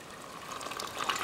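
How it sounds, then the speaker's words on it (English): Water poured from a container into a large saucepan of black-eyed peas, a short, steady splashing gush that grows slightly louder toward the end. "we're going to pour the water"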